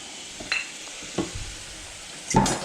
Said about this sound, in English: We can cook the bacon up first.